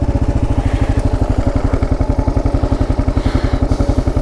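Kawasaki KLR motorcycle engine thumping steadily while riding the dirt Lolo Motorway, a loud, close, fast single-cylinder pulse with rough clatter and no talk.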